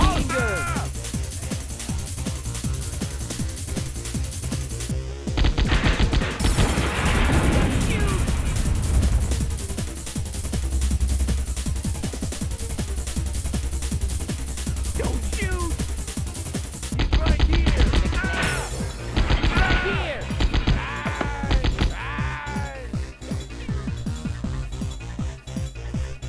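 Machine gun fire from the PlayStation game Die Hard Trilogy (1996) in the Nakatomi Plaza level: loud, dense game audio with repeated gunshot bursts and clinking, layered under a game character's voice.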